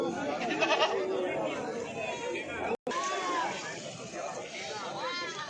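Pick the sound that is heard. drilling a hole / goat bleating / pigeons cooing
goat bleating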